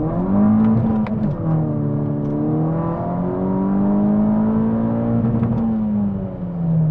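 A VW MK6 GTI with a turbo downpipe accelerates hard in a timed 0-60 run, heard from inside as a loud, steady engine drone that rises in pitch, dips briefly at gear changes, then climbs again.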